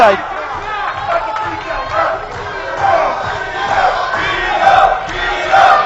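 Wrestling crowd cheering at a televised match, a loud steady roar of chanting and shouting voices that swells in waves, with no commentary heard over it.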